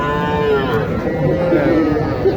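Cattle at a livestock market selling bulls and calves give a long, loud, close moo that wavers and drifts for a couple of seconds over a busy crowd background.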